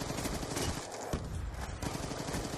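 Rapid, overlapping bursts of gunfire in the shooter game Black Ops 2 crackle fairly quietly and steadily through the whole moment, with no talk over them.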